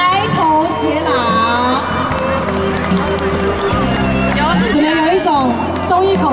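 An audience at a group wedding ceremony claps and cheers for the newlyweds, a dense loud roar of applause mixed with voices and background music.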